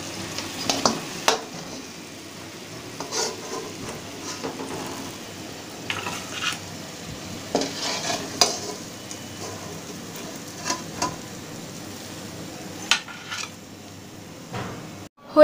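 Cauliflower singaras browning in hot oil, giving a steady soft sizzle with gentle bubbling and occasional clinks of a utensil stirring, close and moderately quiet throughout.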